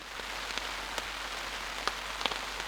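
Rain patters steadily on a taut tarp nearby in a forest, with scattered louder drops tapping over a constant hiss.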